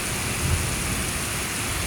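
Rain pours steadily outside during a night storm with distant thunder somewhere, a dense constant patter with a faint low rumble near the start and no talking.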